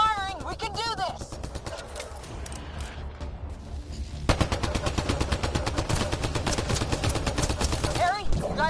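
Mass Effect Andromeda gunfire on the Habitat 7 prologue, rapid, sustained weapon fire that thickens into a relentless rattle of shots halfway through, with voices calling out over the early part.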